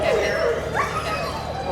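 A wirehaired hunting dog at an outdoor training gathering gives a quick yip and whimpering bark, fairly close, mixed with background voices.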